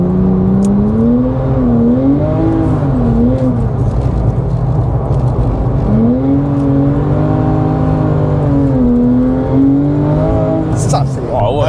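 A Porsche Cayman GT4 or GT3 naturally aspirated engine revs up loudly, its rising and falling pitch sweeping through two surging pulls, with people talking over it inside the car.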